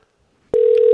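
A steady telephone dial tone comes on abruptly after half a second of silence and holds clear and loud to the end, heard when calling a station's phone and text line.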